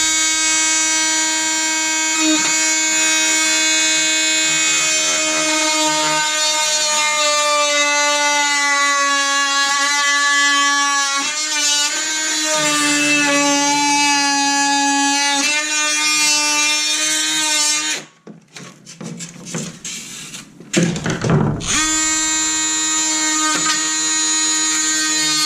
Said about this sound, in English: Now I can take my oscillating tool.